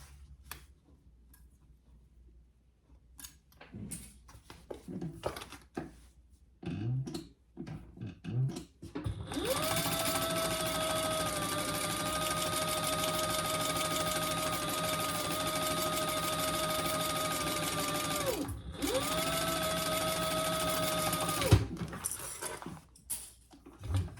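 Light clicks and handling noises come first, then a sewing machine runs a long, steady, close stitching run along a full seam allowance on a triple-zip crossbody bag, pausing once briefly before stopping.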